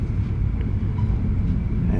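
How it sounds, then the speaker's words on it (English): An empty coal train rolls past near Ipswich in Queensland, a loud continuous low rumble and rattle of wagons heard close by from a moving train, with no talking. "There's something going past, probably an empty coal train."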